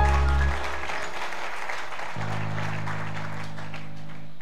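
A church congregation applauds as one steady, dense wash of clapping, loud and sustained throughout, while sustained organ-like chords sound underneath.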